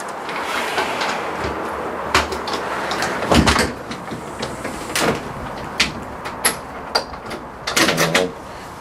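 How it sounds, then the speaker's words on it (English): A door opens and shuts at a workplace on a Monday afternoon, heard as a few knocks, clunks and a latching thud over steady background noise. "Close the door."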